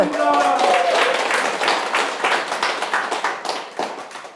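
Audience applause at a corporate seminar, a dense burst of clapping that gradually thins into scattered claps over a few seconds, with a voice briefly audible at the start.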